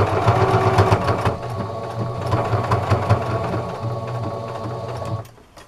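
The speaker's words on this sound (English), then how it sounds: "All it is just sewing a line. And then feed it forward." A sewing machine runs a straight line of stitching through a dish-washing sponge, a fast rhythmic mechanical chatter up close that eases off and stops just before the end.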